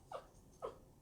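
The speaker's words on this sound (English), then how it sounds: "He's my little guard dog." A small dog lets out two brief, faint whimpers about half a second apart in a quiet indoor room, with no talking.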